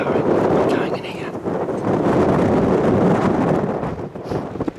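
Strong wind gusts in Scotland roar steadily across the microphone, a loud, rumbling buffeting that barely lets up for the whole stretch.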